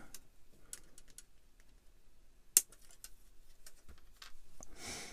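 Small sharp snips and clicks come from a cutter trimming plastic model kit parts off the sprues, with scattered close taps and one louder crisp snap midway, quiet between cuts.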